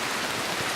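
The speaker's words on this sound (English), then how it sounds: "it's rainy. We're in a rainforest." Steady rain pours down on a wooden hut deep in a rainforest, a dense, even wash of close drops hitting the roof and surroundings with no pauses and no voices.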